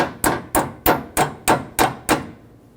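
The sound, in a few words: tapping a part onto a new AC condenser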